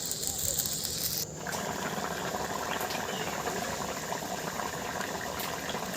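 A pot of potato and taro fish curry bubbles steadily at a rolling boil, a dense continuous simmering hiss close by, briefly dipping near the start before resuming evenly throughout.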